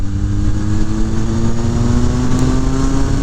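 A 2000 Kawasaki ZRX1100 motorcycle engine runs at a steady, smooth idle, giving a loud continuous hum with a firm low drone and a faint higher whine, close by and with no talk over it.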